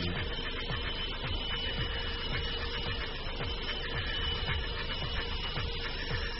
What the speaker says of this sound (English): This drilling is done in an automated process.